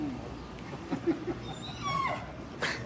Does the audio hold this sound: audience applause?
no